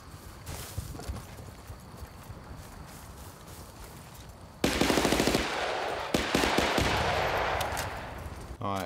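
Battlefield Bad Company gunfire: a quieter stretch of rapid clattering gives way to loud, sustained automatic bursts in the second half, close and harsh, with faint background activity beneath.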